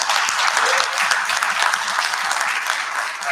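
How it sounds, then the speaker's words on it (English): Audience at a TiECon Delhi-NCR 2023 event applauding three people asked to stand, a dense, steady wash of many hands clapping close and loud throughout. "big round of applause for all three of them"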